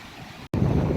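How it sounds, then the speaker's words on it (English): Strong wind gusts buffet the microphone on the Beacon Rock trail, a steady roar cut by a brief dropout halfway, then returning louder. "It is extremely windy."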